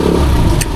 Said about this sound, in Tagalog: maingay na yung makina, kaya kailangan na siya ng tune up